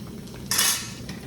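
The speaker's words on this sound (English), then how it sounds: "This is my favorite stove, this pots and pans right here." A single brief metallic clank rings out as British-issue metal pots and pans are handled on a field stove during a navy ration meal. It is short and close, with a quiet room around it.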